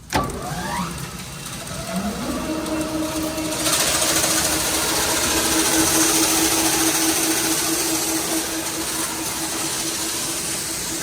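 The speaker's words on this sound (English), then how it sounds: "make sure the pit auger works" A pit auger runs with a continuous mechanical whir that builds after a sharp start and holds steady and loud, a droning motor tone over a rough grinding rumble.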